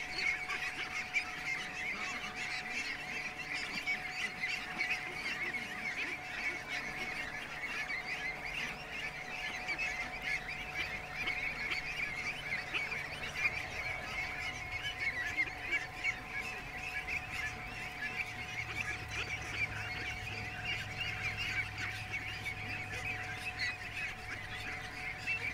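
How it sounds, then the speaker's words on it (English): A flock of ducks quacks and honks steadily and continuously for nearly half a minute, a dense, moderately distant chorus of calls with no talking. "Come on out, ducks."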